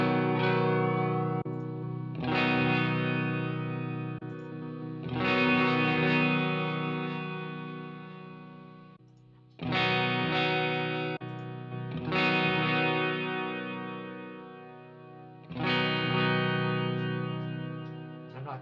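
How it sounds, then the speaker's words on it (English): Electric guitar through a Line 6 HX Stomp with stereo delay plays sustained distorted chords and notes, each strike ringing out with audible repeats and reverb-like tails, six loud phrases over about eighteen seconds with no talking. "I'm going to add a stereo delay just because it's fun"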